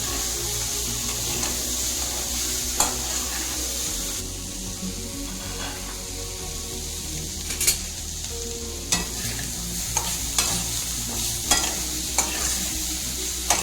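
Bitter gourd frying and being stirred in a pan of oil for a jaggery chutney, a steady sizzle broken by sharp scraping clinks of the spoon. It runs close and continuous, with no voices.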